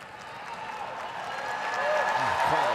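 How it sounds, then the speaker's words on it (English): Spectators at a 2023 US Open women's doubles quarterfinal, Hsieh/Wang against Pegula/Gauff, keep up a steady wash of cheering and crowd noise that swells louder over the last second, with a commentator talking over it. "Crowd trying to play their part here."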